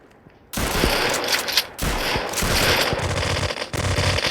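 Rapid automatic gunfire in the video game rec.o.r.d bursts in after a short quiet moment, then continues as loud, close, overlapping volleys with brief gaps between them.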